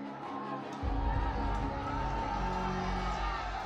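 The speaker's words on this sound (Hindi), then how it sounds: "नारेबाजी तेज होती दिखाई पड़ती है।" Dense crowd noise swells during a riot at Kushal Chowk in Jahangirpuri, Delhi, with a continuous roar of voices building after the first second, suggesting loud slogan chanting held back by a police human chain.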